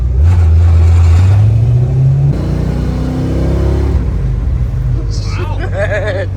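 Ford Falcon with a swapped-in V8 pulls hard through the gears, loud engine note rising and dropping with each shift, with excited voices talking over it near the end.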